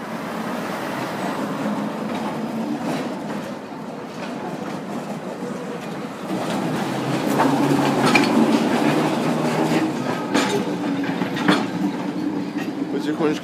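A tram rumbles along its rails at a tram parade near a tram loop and depot, with a steady clickety-clack that grows louder and heavier partway through, with faint voices in the background.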